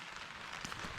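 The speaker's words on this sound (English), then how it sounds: "Keep that rain out." Rain falls steadily outside a garage, a soft continuous hiss with faint scattered patters, quiet and close.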